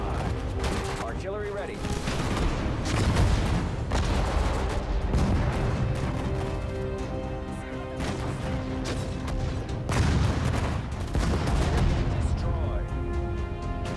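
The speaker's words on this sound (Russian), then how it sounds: "Что за артиллерия, блин?" Artillery fire in the World War II strategy game Sudden Strike 4, set in the Ardennes operation: repeated heavy booms and blasts roll through a dense battle soundscape, with someone talking over the explosions.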